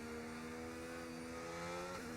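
Ferrari race car engine in a sim racing game at a Spanish circuit, a steady, droning high-rpm note with harmonic whine that holds level, then shifts abruptly near the end as the revs change.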